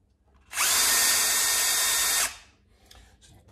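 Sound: 3mm drill drilling holes in inner fenders

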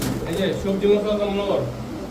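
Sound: Saharanpuri pigeon cooing

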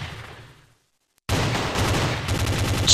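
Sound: sniper rifle gunfire in an Android FPS video game

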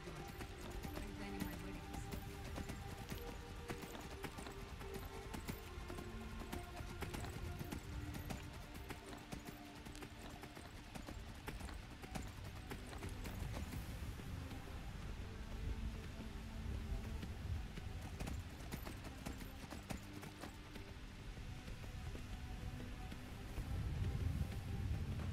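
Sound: horse hooves running up stairs in Skyrim video game

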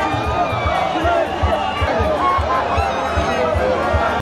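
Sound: crowd at Bobi Wine's reception in Mayuge

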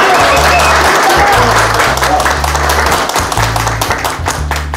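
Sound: audience applause

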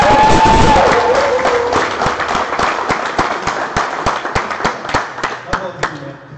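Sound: audience applause

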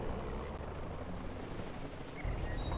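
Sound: helicopter gunship in the video game C&C Generals

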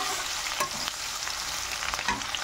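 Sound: onion pieces frying in a pan

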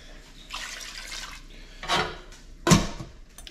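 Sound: water pouring into a pot

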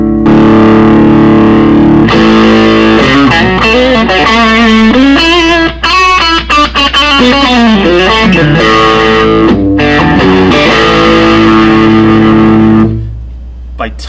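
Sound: electric guitar amp distortion

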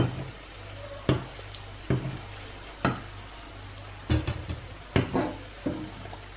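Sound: seeni ariyatharam sweets frying in oil

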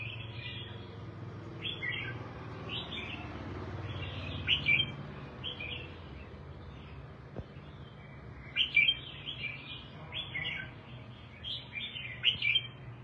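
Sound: songbird chirping

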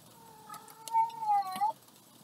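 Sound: cat in heat meowing

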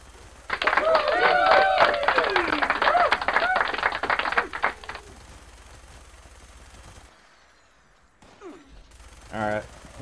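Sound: workshop turrets shooting in video game Fallout 76

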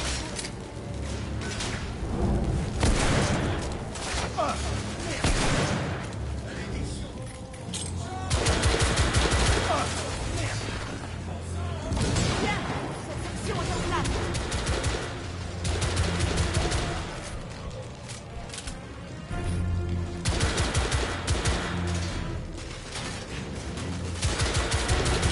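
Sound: gunfire from a weapon in a video game

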